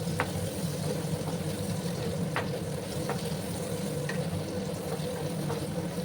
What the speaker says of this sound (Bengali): প্রথমে আমি 2 মিনিটের মতো আলুগুলোকে একটু ভেজে নিচ্ছি